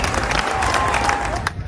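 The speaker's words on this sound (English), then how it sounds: "Let's give them a round of applause." A small audience breaks into applause, a dense burst of clapping with some cheering that holds steady and then thins out at the end, close and fairly loud.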